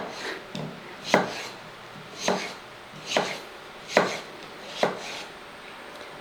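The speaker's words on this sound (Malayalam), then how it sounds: "അപ്പോൾ അതെങ്ങനെ അരിഞ്ഞെടുക്കുന്നതെന്ന് നോക്കാം." A knife chops peeled potatoes for a Kerala potato thoran, five sharp, evenly spaced cuts against a board about a second apart, close and crisp over a quiet kitchen background.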